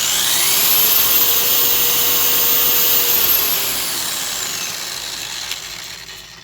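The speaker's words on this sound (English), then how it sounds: "This is a polisher, and we'll go ahead and go Maximus speed here." A Vevor 1.5x30-inch variable speed pipe belt sander runs at maximum speed, about 3,200 RPM, giving a loud steady whine and belt hiss that holds for several seconds and then winds down near the end.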